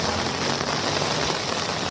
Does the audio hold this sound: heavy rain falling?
yes